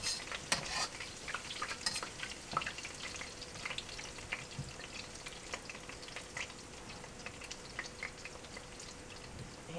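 Garlic sizzling in a hot pan for Szechuan pork, a quiet steady frying hiss scattered with small crackles and pops, heard alone and fairly close.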